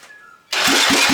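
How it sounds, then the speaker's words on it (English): A Honda farm bike engine cranks over after a short quiet moment, with a loud burst of rapid, rhythmic turning pulses close by. "Oh, that's a much healthier crank."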